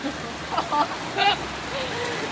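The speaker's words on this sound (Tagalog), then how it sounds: "It's raining, guys!" Rain falling steadily outdoors as a soft, even hiss throughout, with brief voices breaking in faintly now and then.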